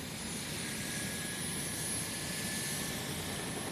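A helicopter drones steadily at a distance, with a constant engine and rotor hum and no voices.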